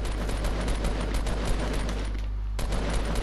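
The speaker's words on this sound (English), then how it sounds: "He was shooting someone, though." Rapid gunfire from Fortnite Battle Royale, a dense fusillade of shots crackling almost continuously for several seconds, briefly dropping out near the end before resuming, loud and close without any talking.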